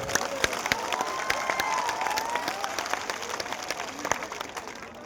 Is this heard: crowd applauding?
yes